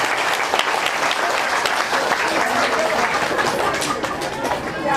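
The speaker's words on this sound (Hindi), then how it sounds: "ताली बजाने की क्या बात है।" An audience at a Hindu religious discourse on the Maharas story in Hanumangarh, Rajasthan, claps loudly and continuously, a thick wash of many hands that holds steady throughout.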